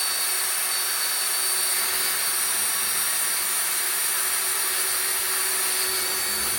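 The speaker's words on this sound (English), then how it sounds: "A bunch of these are going to get drilled." A power drill runs steadily at close range while drilling holes in metal trap anchors for a trapline, one continuous loud whine with no pauses and no talk.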